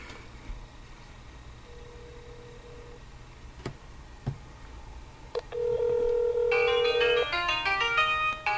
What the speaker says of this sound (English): And there it is, and it's calling.